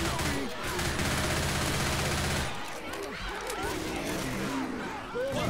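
Rapid bursts of gunfire from a Left 4 Dead 2 match pound densely for the first couple of seconds, then thin into scattered shots and impacts that carry on to the end.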